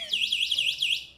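Anti-theft alarm on a Sunrace Eco electric bike sounding as the bike is moved, a rapid warbling electronic siren repeating several times, loud and close with no talking.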